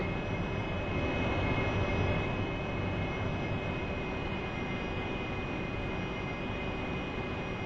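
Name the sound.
Harrier jet engine in flight, DCS World video game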